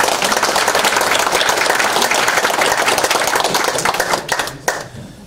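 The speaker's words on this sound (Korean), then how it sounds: "세 분 예비후보님 힘내시라고 다시 한번 힘찬 박수 부탁드립니다." Audience applause at a Democratic Party preliminary candidates' debate in Guri: dense, loud, sustained clapping from a crowd that thins out and fades near the end, with a few last claps.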